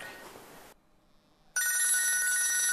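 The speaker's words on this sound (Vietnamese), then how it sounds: "chờ em một tí em nghe điện thoại nhá" A telephone rings loudly in a Vietnamese Tet comedy sketch, a steady electronic bell tone cutting in suddenly after a short pause and continuing without a break.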